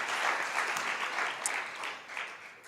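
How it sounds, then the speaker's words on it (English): Audience clapping for a storyteller at a temple storytelling evening, soft and somewhat distant, a steady patter of many hands with no voices. "give him a round of applause"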